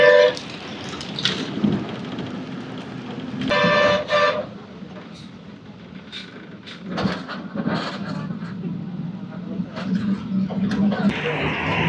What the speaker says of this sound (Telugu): పిచ్చ కొట్టుడు కొడుతున్న వర్షం అయితే